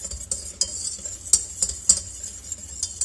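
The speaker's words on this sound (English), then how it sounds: "and stir it around and let it get all absorbed in there" A spoon stirring xanthan gum into a keto chicken fettuccine Alfredo sauce in a pan, giving steady rhythmic scraping strokes with sharper clicks against the pan, close up and without any voice.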